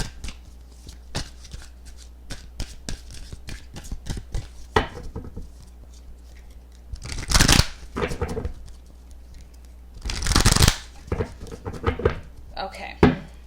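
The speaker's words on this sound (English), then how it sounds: "I'm gonna shuffle the cards for each sign" Tarot cards being shuffled by hand, a run of crisp flicks and taps building into two louder riffling bursts, close up and clear, with occasional talk.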